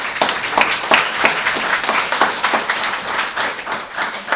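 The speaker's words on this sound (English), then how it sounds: "So let's applaud that as well." Audience applause at a public event on Seattle-area housing progress, a moderate room of dense clapping, fairly loud and steady for several seconds without speech.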